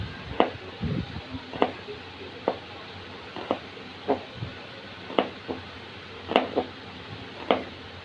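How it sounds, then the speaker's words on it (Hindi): A knife chops onion finely on a board for a chilli Maggi noodle dish, giving a dozen or so crisp, close, evenly spaced chops with no talking. "और अभी हम काटेंगे प्याज"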